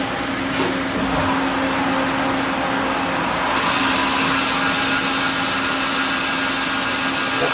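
Spindle run-up on a 2008 Doosan Puma 400 CNC lathe toward 500 RPM, a loud continuous whirring drone with a steady tonal hum and broad hiss, swelling slightly partway through.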